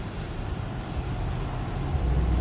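Road traffic on Lee Bird Road, near the intersection of Main Street and Route 78, gives a low, steady rumble of passing cars and trucks that swells slightly toward the end.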